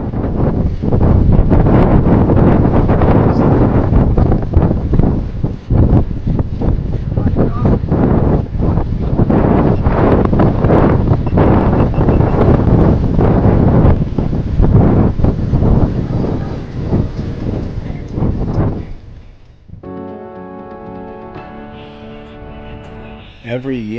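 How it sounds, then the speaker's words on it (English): Strong wind buffets the microphone during a RAGBRAI bicycle ride across Iowa, a loud, roaring rumble that surges and gusts for about twenty seconds before dropping away to quieter music at the end. "let me just play this raw audio so you can get a feel for just how windy it was"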